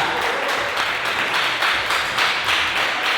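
Church congregation at a Portuguese-language sermon applauding loudly, a thick, continuous roar of clapping with slight surges in intensity.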